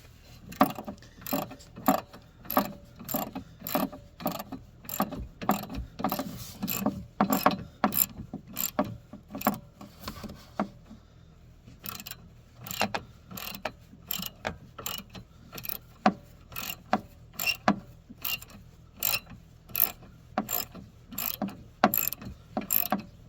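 Socket ratchet clicking in quick bursts while tightening a bolt onto a traction motor lead, steady repeated pawl clicks with a brief pause midway, close and clear, no talking.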